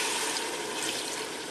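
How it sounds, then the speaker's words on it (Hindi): Water pouring steadily into mutton korma masala in a pot, a continuous bright splashing stream, close and fairly loud, with no voices. "अब मैं इसके अंदर पानी डालूंगा"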